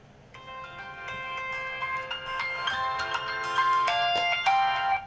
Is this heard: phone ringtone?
yes